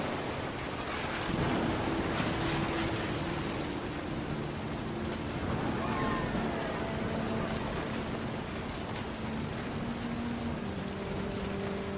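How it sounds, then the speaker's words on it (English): Steady rain and low, rumbling thunder from the video game What Remains of Edith Finch fill a continuous stormy wash of noise, with no voices over it. "The thunder sounded much too close and full of angry power."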